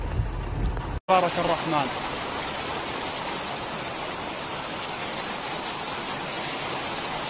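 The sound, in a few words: scattered rainfall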